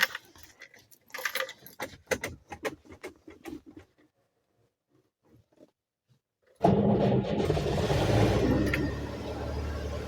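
Vehicle engine starts for the first time after a three-day standstill, following a tire valve replacement: keys jangle and clicks, a brief quiet, then the engine catches abruptly and runs at a loud, steady idle close by.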